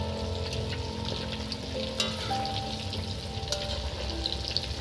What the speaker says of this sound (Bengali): এবার কাতলা ভাজার পালা